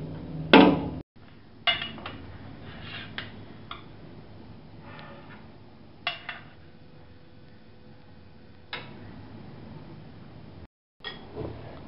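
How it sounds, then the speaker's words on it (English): Cooked baby potatoes being moved onto a plate: a few clinks and taps of utensil against dishware spaced apart over a quiet background, with no talk. "Now we remove it on a plate."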